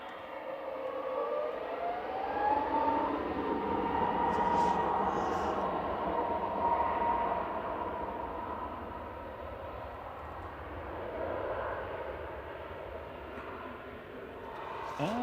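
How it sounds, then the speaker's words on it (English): Logan Air ATR 72-600 turboprop arriving at Manchester Airport from the Isle of Man, a broad droning roar with a rising, siren-like propeller whine that swells and fades steadily. "Next in will be our first prop of the day. It's Logan Air coming in from Isle of Man, ATR 72600"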